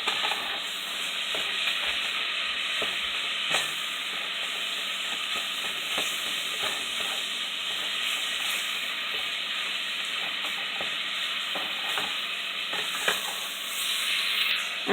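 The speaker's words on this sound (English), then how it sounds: "we definitely want to cook our hamburger and all the seasoning in here." Hamburger and andouille sausage fry with seasoning in a pan, giving a steady, close broadband sizzle with occasional stirring clicks throughout.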